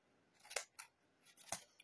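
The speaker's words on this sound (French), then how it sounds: "c'est juste pour le fun que j'ai coupé avec les ciseaux cranteurs" Pinking shears cutting paper for a scrapbook project, a few quiet, crisp snips in a short irregular sequence, close and alone.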